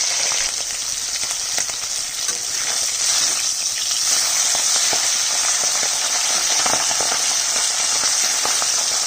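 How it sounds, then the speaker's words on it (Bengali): Fish frying in hot oil, a steady close hiss and crackle of sizzling that runs unbroken and fairly loud throughout, with no talking. "মাছ ভাজবো তেল গরম হয়ে গেছে আমি একটা একটা করে মাছ দিয়ে দিচ্ছি"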